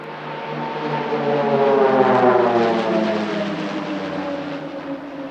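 PC-9 aerobatic team aircraft fly a display at the Leszno airshow, their propeller engines a loud, droning roar that swells and slowly fades as the formation passes.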